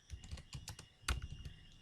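A command is typed on a computer keyboard in quick, uneven bursts of close, crisp key clicks, with one heavier keystroke partway through.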